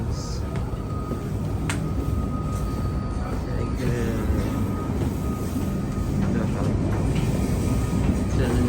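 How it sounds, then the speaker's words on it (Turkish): Riding a train, a steady low rumble of rolling wheels and carriage noise fills the space, with faint rattles and clicks and a few brief tones, continuous and fairly loud throughout. "Trenden iniyoruz."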